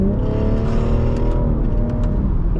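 A 2017 BMW 440i Coupe in Sport mode accelerates hard, its engine note loud, close and steady, climbing continuously over road and tire rumble with no talking.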